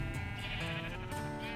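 Sheep bleating in the video game Minecraft, a short wavering bleat repeated once or twice, faint and isolated.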